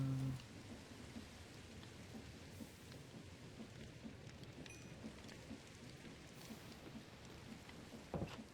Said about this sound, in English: Is it a thunderstorm? No, it's just normal rain.